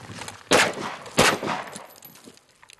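Two loud, sharp pistol shots ring out at a shooting range, about two-thirds of a second apart, each fired at a target and trailing off in a short echoing decay.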